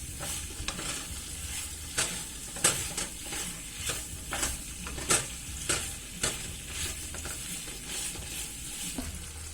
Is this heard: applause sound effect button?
no